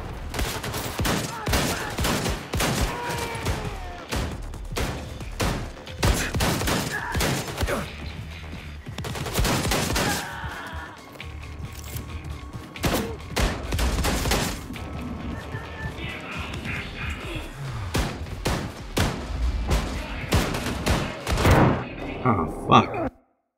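Shotgun blasts ring out in Wolfenstein 2 amid dense combat, with loud repeated gunfire and crashes over game noise while a player talks over the action.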